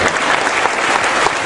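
A brief burst of applause from the audience at an anti-corruption discussion, welcoming Mas Dana of ICW: close, dense clapping at a steady, fairly loud level for about a second and a half.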